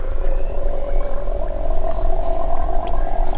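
Fork oil poured into a KTM EXC 450 motorcycle fork during a seal replacement gives a steady bubbling gurgle like a rumbling stomach, close and continuous with no talking.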